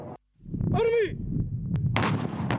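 Live-fire weapons boom during a military tactical exercise with live ammunition in Djanet, a heavy blast rolling into sustained rumble with sharper cracks following, loud and close.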